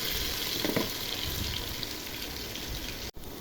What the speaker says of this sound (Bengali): পেঁয়াজগুলো ভেজে নিব বাদামি রং করে।